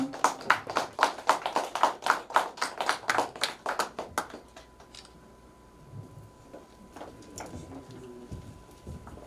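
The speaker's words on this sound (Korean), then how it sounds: "박수 한번 주세요." An audience at an arts association's inaugural ceremony claps in rhythmic unison for several seconds, then the applause fades into scattered claps and quiet room noise.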